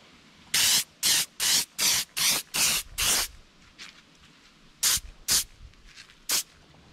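A two-part automotive gloss coat is sprayed onto a painted bluegill replica fish mount in short, sharp hissing bursts, seven in a quick even rhythm, then a pause and three more spaced bursts, close and loud.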